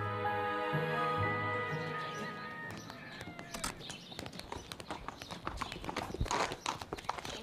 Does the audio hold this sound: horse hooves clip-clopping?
yes